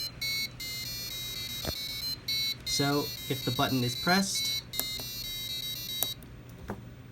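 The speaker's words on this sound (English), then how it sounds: "an intruder has been detected and the alarm has gone off. As you can see, a custom song is used" A Sparkfun intruder alarm buzzer plays a custom melody of steady electronic tones that run the whole time, while a voice talks over it.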